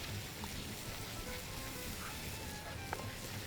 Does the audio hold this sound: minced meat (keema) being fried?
yes